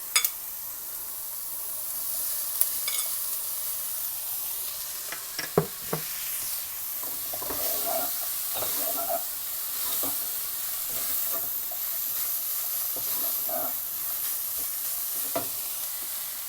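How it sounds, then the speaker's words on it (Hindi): Chicken for a hot sandwich sizzles steadily in a hot pan, with a few sharp clinks and stirring scrapes rising over the constant fry hiss; no one speaks. "अब इसमें चिकन डाल देंगे।"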